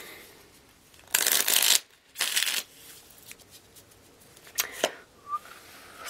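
Tarot cards are shuffled in a few loud, brisk bursts up close, separated by quiet pauses and a couple of softer flicks.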